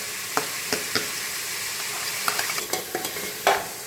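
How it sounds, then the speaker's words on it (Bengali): A spoon taps and scrapes at intervals as chopped tomato and thin onion slices are stirred into a pan for street-style pav bhaji, over a steady soft sizzle. "এবার এর মধ্যে দিয়ে দেবো ওই একখানা কেটে রাখা টমেটো, আর তার সাথে 2খানা একদম পাতলা পাতলা করে কেটে রাখা পেঁয়াজ"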